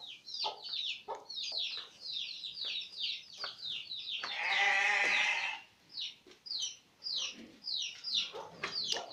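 Chickens on a farm cluck and chirp in quick, overlapping bursts close by, with one louder, drawn-out squawk or crow midway, all fairly faint and without speech.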